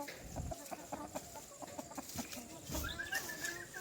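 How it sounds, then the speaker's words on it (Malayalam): Hens and one rooster on a village farm clucking in rapid, irregular bursts, close by and moderately loud, with a rising call near the end and outdoor background noise. "കുറേ പെടക്കോഴിയും ഒരു പൂവൻ കോഴിയാണ് ഇവിടെ ഉള്ളത്"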